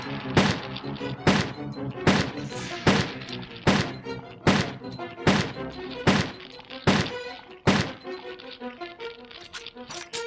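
Pistol shots fired at an enemy in Resident Evil 2: a regular series of about a dozen sharp, loud gunshots, roughly one per second, each with a short echo tail, no voices.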